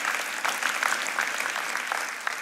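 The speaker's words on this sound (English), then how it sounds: "You can clap for that." Steady applause from a sizable church congregation during a sermon fills the space, dense and continuous throughout.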